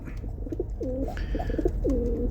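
Pigeons coo aboard a ship, several low rounded calls repeating in a steady rhythm close by over a constant engine-like background hum.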